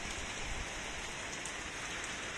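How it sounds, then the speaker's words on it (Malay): Steady rain falling on a surface at an oil palm and durian plot, a dense continuous hiss with scattered drop patter, fairly quiet and unbroken throughout. "Hari ni hujan pula"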